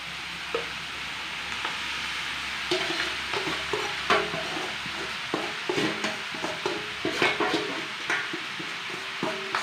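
Meat frying in a hot pan for kinunot, a steady sizzle with repeated scraping, stirring knocks of a utensil against the pan, close and alone without talk.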